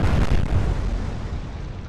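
Naval gun salvos from the heavy cruiser Prince Eugen in the Atlantic Fleet video game: a loud, deep boom with rumbling blasts that roll out and slowly fade.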